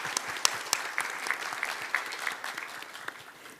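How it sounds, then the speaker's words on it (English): Applause from the audience at an academic Korean studies forum, thanking university professors on the panel; a steady patter of many hands clapping, moderately loud, tapering slightly toward the end. "And after this applause,"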